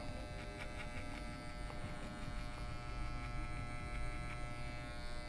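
An adjustable electric hair clipper trims a man's hair during a barbershop haircut, giving a continuous close buzzing hum that stays steady for several seconds with no talk.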